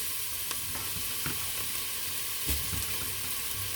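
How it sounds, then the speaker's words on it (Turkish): Mushrooms fry in hot oil in a home kitchen, a steady close sizzle with occasional stirring clicks and pops, no talk. "Yağın kızmasını bekledim su bırakmasını istemedim mantarları."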